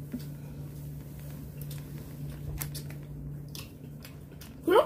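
Someone bites into and chews a chocolate-flavored Pokémon bread, with soft, close, irregular crunching and squishy mouth sounds over a quiet room hum, and a brief voice near the end.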